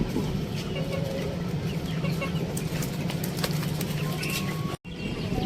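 A hen with her chicks on a rooftop Aseel chicken farm, giving soft clucks and chick peeps at close range amid steady background noise, with a brief dropout near the end.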